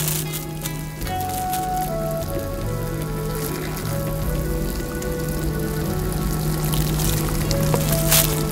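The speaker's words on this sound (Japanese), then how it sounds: "ではお湯を入れます。" Hot water is poured into an instant cup of Kanda Matsuya chicken nanban soba: a steady, continuous close-up splashing and trickling that runs unbroken throughout, with no talking.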